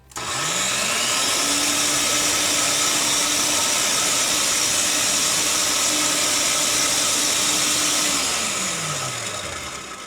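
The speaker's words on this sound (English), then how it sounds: "A few minutes in the food processor will get our consistency to where we want it to be" Food processor pureeing a mango habanero sauce, motor spinning up to a steady loud whir that holds for several seconds and then winds down, close and alone without talk.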